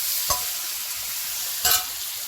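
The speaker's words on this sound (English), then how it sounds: "Okay, so now I'm adding the shrimp." Shrimp frying in a hot pan for a Jamaican-style coconut curry, a constant close sizzle broken by two brief stirring clatters, no voices.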